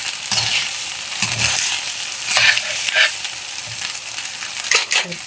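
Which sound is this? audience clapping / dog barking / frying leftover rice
frying leftover rice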